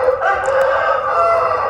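Korean breed rooster crowing loudly and close, one sustained drawn-out crow filling the whole moment with a slight rise and fall, no voices.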